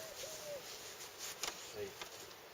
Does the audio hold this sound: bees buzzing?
yes